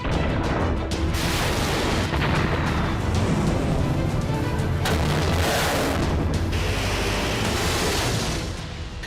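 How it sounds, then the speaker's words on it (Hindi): A bunker buster bomb explodes, heard as a loud, continuous roaring rumble that fills the whole span without letting up before easing slightly at the end. "बम से जमीन की सतह से कुछ फीट अंदर विस्फोट करता है।"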